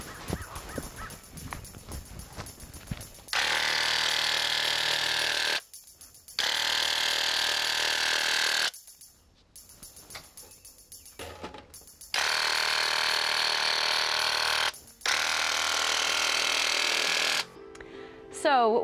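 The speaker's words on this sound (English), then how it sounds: "I'm using a sprayer, but you can use a roller and a brush." A paint sprayer coats house eaves in several long hissing bursts separated by pauses, with a voice speaking between the spraying.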